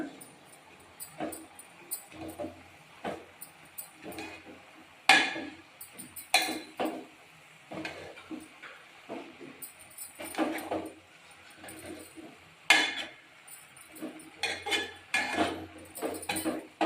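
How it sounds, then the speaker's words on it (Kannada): Fenugreek leaves frying in a pan give soft rustling and sizzling, with repeated sharp spatula knocks and scrapes against the metal at an uneven pace. "ಸೊ ಎಲ್ಲ ಹಾಕ್ಕೊಂಡಿದ್ದೀನಿ ಮೆಂತ್ಯ ಸೊಪ್ಪನ್ನ. ಇವಾಗ ಫ್ರೈ ಮಾಡೋಣ."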